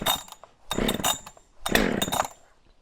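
A Husqvarna 572XP chainsaw pull-started with choke and chain brake on, giving two loud bursts of engine sputter and rasp, each lasting under a second, separated by short pauses.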